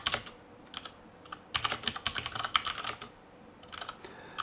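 Quick bursts of typing on a computer keyboard late at night, close and fairly quiet, with irregular clusters of clicks separated by short pauses.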